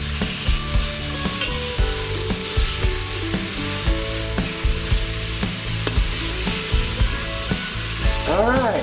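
Tri-tip beef browns in an Instant Pot, giving a constant close sizzle broken by clinks and scrapes of stirring and turning the meat.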